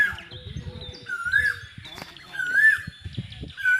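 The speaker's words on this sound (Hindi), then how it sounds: "तो लागे छै कोयली का आवाज रहे" An Asian koel calls repeatedly outdoors, rising whistled notes recurring every second or so, clear and fairly near, while people talk over and between the calls.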